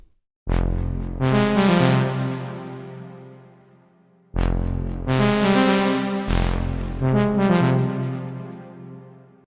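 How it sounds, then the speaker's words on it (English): Two long sustained chords from a Diva saw lead preset called Pressure, buzzy and layered with heavy noise, each swelling then slowly fading, played alone without talk. "Then lead pressure is a saw lead with a lot of noise on it"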